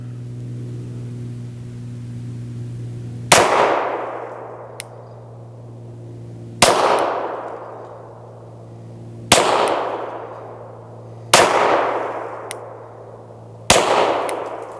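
Five pistol shots ring out one at a time, roughly three seconds apart, each a sharp loud crack with a ringing decay, fired in a non-dominant hand trigger finger drill over a steady low engine-like hum.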